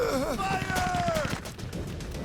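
Gunfire in a Sand Land video game battle, rapid bursts of shots rattling under a loud, energetic mix with a voice shouting over the fighting.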